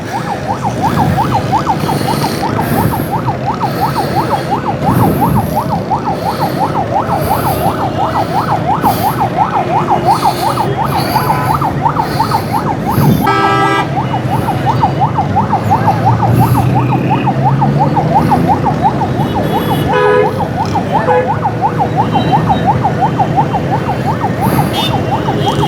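Fire engine siren wailing loud and continuous near a burning Suzuki car by the Green Line bus track at Five Star Chowrangi, with steady rising-and-falling cycles over street noise and no talk.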